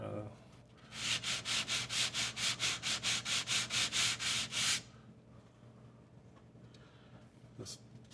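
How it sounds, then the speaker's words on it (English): Model road rails being sanded with 220 grit sandpaper, about fifteen quick, even back-and-forth scrubbing strokes close by, then stopping into quiet. "this 220 grit seems to work pretty well with cleaning the rails"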